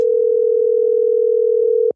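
A steady single-pitch telephone tone during a call-in line, continuous and fairly loud for about two seconds, then cutting off abruptly, with a couple of faint clicks near the end.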